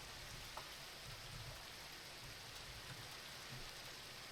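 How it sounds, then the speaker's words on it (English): Rain falling in a Minecraft game with the Metallurgy mod. A faint, steady hiss holds throughout, with no voices. "And it's raining."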